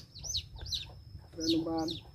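Chickens cluck in short repeated calls close by, with a rougher clucking run toward the end, faint overall over low kitchen background noise.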